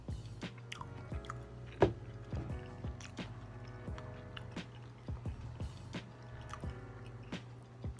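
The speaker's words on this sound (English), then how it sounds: "And I made sure like the little riblet was crispy around the edges. That's why y'all can hear the crunch." Crisp crunchy bites and wet chewing of a BBQ rib sandwich with a crispy-edged riblet, sharp close-up crackles repeating steadily throughout with soft squishy mastication between them.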